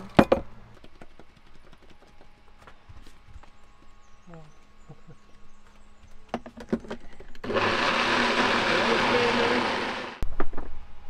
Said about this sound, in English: We're gonna blend it with coconut powder, cocoa powder, and uh, mix like a chocolate nice cream.